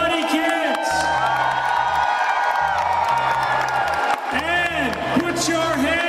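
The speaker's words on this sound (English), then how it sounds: "big cheer for Kids CBC and the Karate Kids" A crowd at a TO 2015 Pan American Games event cheers for Kids CBC and the Karate Kids, a loud, sustained roar of voices with whoops and children's shouts rising and falling throughout.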